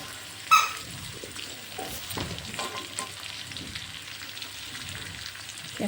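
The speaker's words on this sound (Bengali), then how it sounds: "এরপর কুচনো পেঁয়াজ, ক্যাপসিকাম, কাঁচা লঙ্কা দিয়ে দেওয়া হবে, দিয়ে একটু ভাজতে থাকবো।" Chopped onion, capsicum and green chili frying for chili chicken, a steady soft sizzle with a few stirring scrapes and one sharp clink near the start, heard alone without voices.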